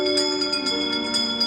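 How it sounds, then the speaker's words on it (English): A bell on the Haunted Mansion ride rings in a quick series of bright, repeated strikes over a sustained tonal background, close and clear with no talking. "give us a hint by ringing a bell"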